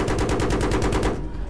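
Rapid automatic gunfire in Battlefield 3, a loud, close, steady burst of about a dozen shots that cuts off abruptly.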